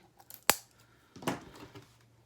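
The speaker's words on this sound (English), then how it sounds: "Right, I'm going to open it now. I've got scissors here." A sharp snip followed by a short rustling crunch, like scissors cutting through plastic packaging, with quiet surroundings.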